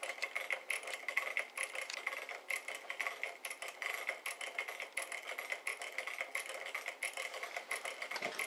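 Magnetic flux drive piston motor idling at about 125 RPM, a steady run of quick light mechanical ticks and clicks repeating close by at a low, even level with no talking.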